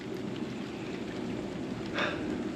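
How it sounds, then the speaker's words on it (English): Rain falling in a steady, dense hiss that runs without break, with a brief, brighter swell near the end. No voices are heard. "Oh, there's the rain right there."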